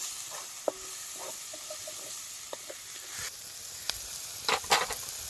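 Turmeric goes into hot oil already holding ginger-garlic paste in a pan over a village wood-fired stove; a steady soft sizzle runs throughout, with scattered clinks and scraping stirs that grow busier toward the end.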